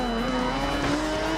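In the racing game Forza Horizon 2, a car drifts with a sustained, loud tire squeal over a steady engine drone, one unbroken screech.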